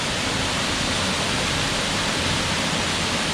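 A waterfall on the Huntington Ravine Trail, swollen after heavy rain, rushes as a loud, dense, unbroken roar of falling water.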